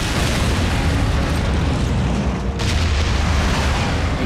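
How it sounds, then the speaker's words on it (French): A proximity bomb explodes in a French-dubbed Transformers: Prime cartoon, a loud, sustained, dense roar of blast and rumble that fills the whole moment, with a brief dip near the end before the noise continues. "Une bombe de proximité."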